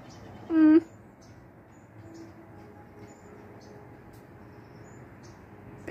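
A single short chirp rings out near the start, followed by quiet outdoor background hum.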